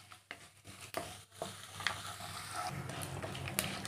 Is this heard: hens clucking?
no